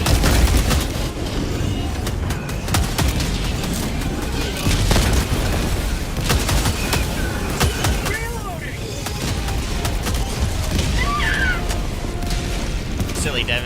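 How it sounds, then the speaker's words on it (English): A walking barrage in Helldivers 2, dense continuous booms and blasts rolling one after another with gunfire-like crackle, loud and chaotic throughout, with voices briefly in the mix. "I almost got ragdolled with that walking barrage"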